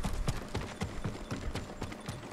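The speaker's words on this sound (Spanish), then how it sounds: "Mira, caballo, genial." Steady clip-clop of horse hooves trotting at a regular rhythm in the video game Ghost of Tsushima, close and fairly clear, with no voices.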